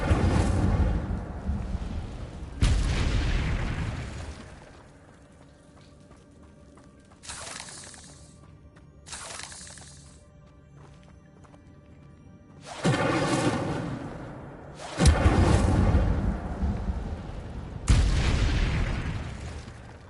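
Incendio fire spells cast in Hogwarts Legacy on PS5 land as several loud, booming fiery bursts with roaring tails, spaced irregularly across the stretch with quieter gaps between, no voices.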